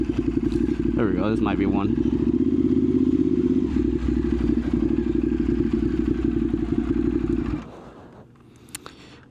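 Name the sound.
2015 Ducati 848 EVO motorcycle riding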